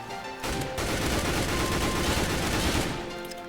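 Rapid automatic gunfire rattles continuously for about two and a half seconds in the Roblox game Mad City, loud and dense, with a brief quieter gap before the shooting starts.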